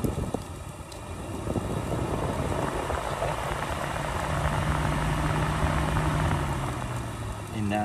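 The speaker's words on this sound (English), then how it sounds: "We should hear the fan and see the fan kick on." A Volkswagen Corrado's radiator cooling fan whirs steadily under engine-like background noise, with a low hum that rises partway through and holds, close and continuous.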